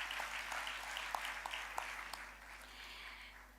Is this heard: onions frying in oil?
no